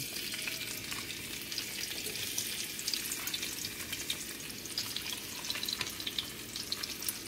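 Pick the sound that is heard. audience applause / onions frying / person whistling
onions frying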